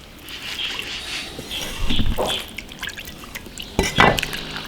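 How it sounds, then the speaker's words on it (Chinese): Pig liver is rinsed in water in a kitchen, with soft splashing and dripping, a few louder sloshes and clinks of the bowl, and faint background noise throughout. "把它血水洗出来"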